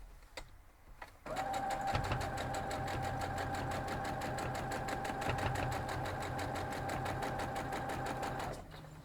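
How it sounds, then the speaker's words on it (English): A sewing machine runs steadily for several seconds as it stitches quilt block pieces into rows, with a fast, even mechanical rattle that starts abruptly, holds a constant loud pace close by, and stops at the end. "and sew all the way down, turning them into rows"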